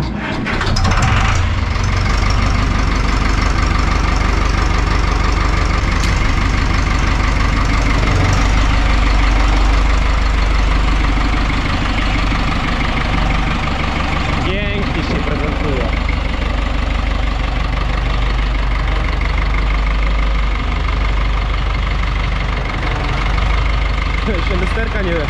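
An Ursus C-360 tractor diesel engine runs loud and close, idling with a steady rumble and knock and rising briefly as the throttle is opened; people talk over it.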